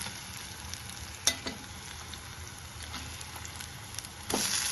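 Sea fish for a curry fry in a pan with a soft, steady sizzle and crackle, a couple of sharper pops and spits rising briefly above the quiet bubbling.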